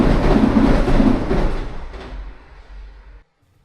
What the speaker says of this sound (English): there goes the train now